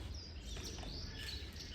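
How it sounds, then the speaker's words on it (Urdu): Faint bird chirps flicker high over a quiet, low background hum, scattered and distant with no voices, in a Pakistani village in the early morning. "بڑے مزے کی چڑیوں کی آواز آ رہی ہے"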